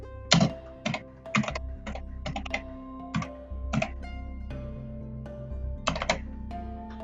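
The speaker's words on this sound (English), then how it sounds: "make sure I type this right" Keystrokes on a computer keyboard while entering a command in the Run dialog of Windows Codename Neptune, coming in quick clustered bursts with short pauses between them, close and fairly loud over a steady low hum.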